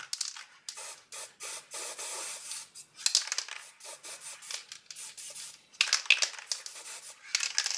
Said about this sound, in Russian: на бумажку, либо на картонку также распыляю белую краску